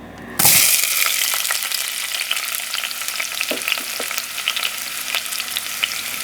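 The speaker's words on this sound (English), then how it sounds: "the oil is warm and ready. I'm gonna add my onions." Onions drop into warm oil and burst into a loud, steady frying sizzle that continues with crackling pops and occasional stirring, close up with no talk.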